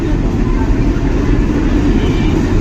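A Shri Shakti Express train with a WDM3A diesel locomotive at a New Delhi railway station platform, giving a loud, steady low rumble with continuous engine noise and no clear breaks.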